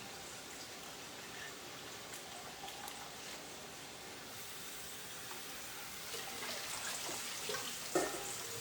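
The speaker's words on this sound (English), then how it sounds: "They'll crisp up in the hot oil right now." Food crisps in hot oil for spaghetti carbonara, giving a steady, even sizzle and crackle that runs throughout at moderate level with small pops.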